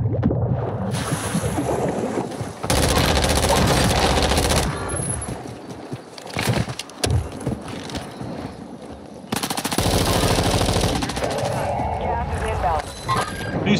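Rapid automatic gunfire in the video game Warzone 2.0, loud sustained bursts broken by brief lulls, with a voice talking over parts of it.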